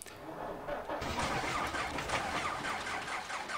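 An AI-driven vehicle engine in the farming game Landwirtschafts Simulator 15 starts up and settles into a steady mid-pitched running drone, fairly quiet with no talk over it.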